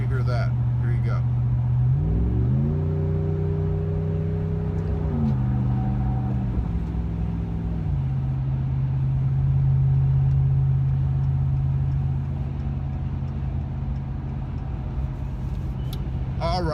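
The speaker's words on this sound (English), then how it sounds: "Give it a little gas here and let you hear that." Honda Rebel motorcycle fitted with a Carven progressive exhaust, accelerating from highway cruising speed: a loud, steady engine drone whose pitch climbs in steps as it pulls, with wind rush throughout.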